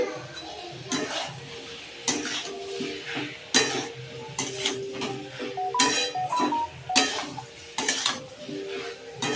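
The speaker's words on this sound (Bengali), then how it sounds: "আলু ভাজাটা দিয়ে দিয়েছি।" A spoon scrapes and knocks against a pan in repeated stirring strokes as fried potatoes are mixed into soybean curry, with a soft sizzle underneath.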